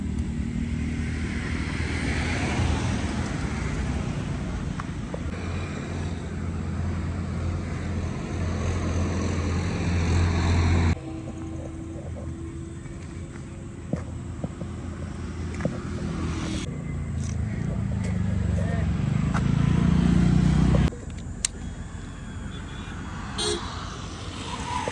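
Royal Enfield Hunter 350 motorcycle being ridden, its steady engine drone and road noise continuous throughout, with a shift in tone midway and a louder rev-up near the end.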